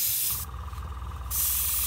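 An airbrush sprays paint onto a board, a steady close airy hiss that thins briefly in the middle before returning full, with a faint compressor hum underneath.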